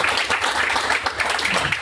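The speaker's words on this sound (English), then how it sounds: "So let's give everybody a round of applause." Audience applause at a fintech meetup, a steady wash of many hands clapping close and dense, filling the whole moment without a break.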